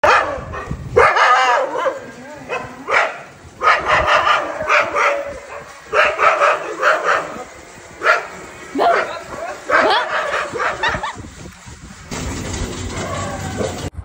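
A pack of street dogs barks at night, loud overlapping woofs and yips in repeated bursts across the whole stretch, with brief lulls between volleys.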